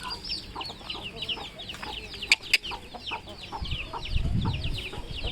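Chickens cluck and chirp in a backyard, a steady run of short, fairly close calls that comes with outdoor rustle, and a low thump of handling noise rises near the end.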